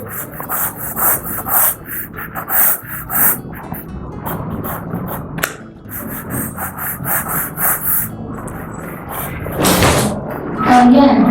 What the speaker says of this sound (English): And now I will draw the vertical lines, and I will quickly try to draw that home.